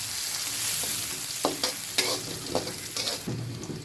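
Chopped onion, garlic and whole cumin seeds sizzle loudly in hot oil in a wok, a steady close frying hiss with a few stirring scrapes and soft clacks breaking through, and no voices.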